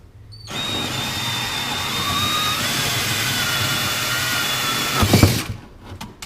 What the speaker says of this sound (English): you can actually run your hole saw through the firewall, up underneath this square tubing here.